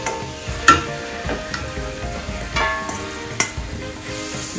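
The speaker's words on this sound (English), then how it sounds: "give this a good stir then" Meat curry, softened with vinegar, stirred in a pot in a Sri Lankan home kitchen: a steady close scraping and sloshing with a light sizzle underneath and a few sharper knocks of the spoon against the pot.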